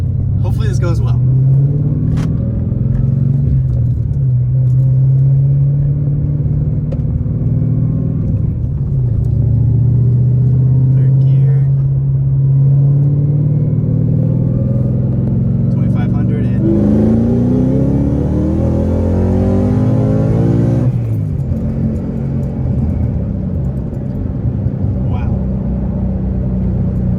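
A bagged, turbocharged Ford Mustang 5.0 V8 roars and rumbles as it accelerates hard, climbing in pitch through gears, with a voice talking over the engine.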